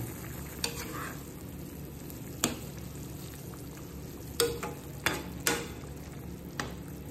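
Adobo bubbles and sizzles in a covered pot with a steady low simmer, while a utensil clinks and scrapes sharply several times.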